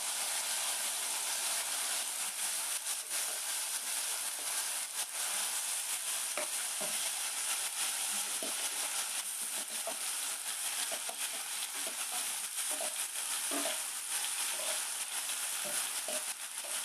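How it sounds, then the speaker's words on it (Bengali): Jackfruit, potato and sesame seeds fry in a wok, giving a constant soft sizzle and hiss with scattered light pops and scraping stirs throughout. "কাঁঠাল, আলু, তিলের দানা একসঙ্গে আমি কড়াইতে দিয়ে দিচ্ছি।"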